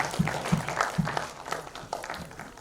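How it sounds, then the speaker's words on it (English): Applause from a conference audience, a short burst of scattered clapping with a few sharp individual claps up front, fading over under three seconds, with a faint voice murmuring beneath. "Big round of applause for him."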